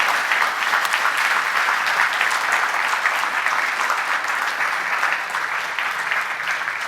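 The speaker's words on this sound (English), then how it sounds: "Let's give a round of applause for Rob Trasinski." Sustained applause from an audience after a talk, steady and dense for the whole stretch, slowly tapering toward the end with no speech over it.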